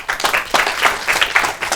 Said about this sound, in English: Give a big round of applause to Janice.